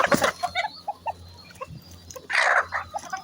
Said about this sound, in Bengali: এগুলো আবার হাত থেকে খাবার খায় মুরগিগুলো